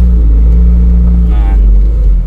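A Daihatsu Feroza pulling away, a loud close low engine rumble with a brief rise as it moves off, heavy cabin noise throughout.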